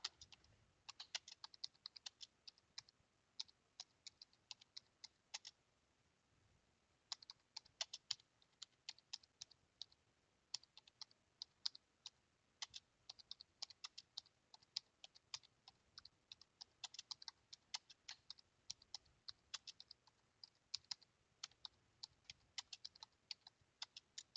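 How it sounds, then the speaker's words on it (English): A computer keyboard is typed on at an uneven pace, with bursts of quiet, close keystroke clicks broken by short pauses and one longer gap. "I'm going to start typing some messages at it first"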